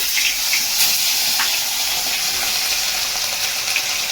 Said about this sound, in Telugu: ఆయిల్ బాగా ఏడెక్కిన తర్వాత నేను వన్ బై వన్ చేప అనేది ఉప్పు కారం బాగా అంటించేసాను